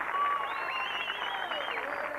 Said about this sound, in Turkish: Alkışlar, kocaman.